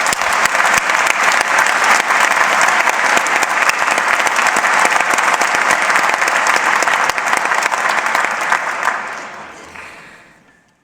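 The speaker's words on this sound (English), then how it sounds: "Let's give them a round of applause." A large crowd at a university graduation ceremony in Belfast claps loudly and steadily for several seconds, then the applause fades away toward the end.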